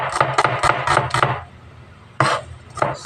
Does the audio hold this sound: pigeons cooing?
no